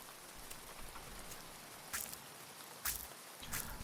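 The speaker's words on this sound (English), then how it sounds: "Whilst it's raining" Rain falling in a cozy farming video game, a soft, steady patter with a few brighter splashy bursts, faint and continuous throughout.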